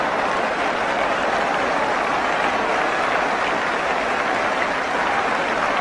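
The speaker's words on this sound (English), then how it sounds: "applause all around the ground for that" A football crowd at Brighton versus Tottenham Hotspur applauds around the ground after a near miss, a loud, steady wash of clapping that fills the whole stretch without a break.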